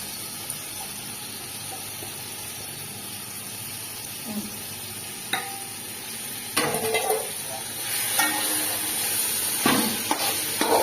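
Marinated chicken pieces coated in salt and chili powder are tipped into a pan of frying tomatoes for a spicy chicken pulao, bringing a hissing sizzle with scattered stirring clatters that grows louder and busier partway through.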